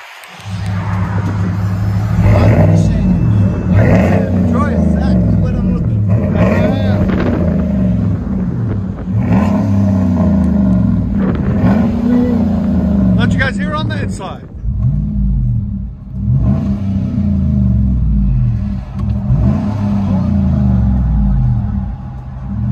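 A 2016 Chevy Silverado LT pickup with a 5.3L V8 and Flowmaster Outlaw dual exhaust, muffler and resonator removed, rumbles steadily with a deep, loud exhaust note, a few brief blips and dips breaking the otherwise continuous drone.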